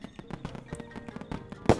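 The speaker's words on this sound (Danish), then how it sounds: "det der fyrværkeri, det er seriøst mit yndlingsfyrværkeri" Fireworks burst in a video game as a series of quick crackling pops, ending in one loud, sharp bang near the end.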